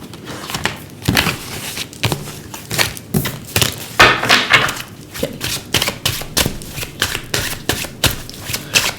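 A deck of tarot cards is shuffled by hand, a dense run of crisp riffling and flicking rattles in rapid irregular bursts, close and fairly loud, with no talk over it.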